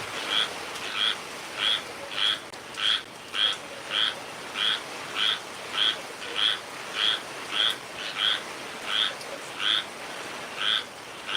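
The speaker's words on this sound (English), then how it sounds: "And that's the frogs, crickets, lizards. Yeah, that's the noise they're making." Frogs, crickets and lizards calling at night during a hurricane, a steady rhythmic pulsing chorus of sharp chirps repeating about twice a second, moderately loud over a constant background hiss.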